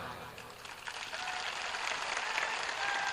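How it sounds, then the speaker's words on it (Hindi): Audience applause at a religious guru's public gathering in India, a steady, dense wash of many hands clapping throughout, moderately distant and without any clear voices over it. "एक बार इन बच्चों को ताली बजाओ।"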